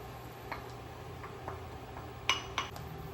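Ground flax and water being stirred in a bowl give soft, faint scraping with a few light clinks of utensil against the dish, a couple of sharper taps near the end.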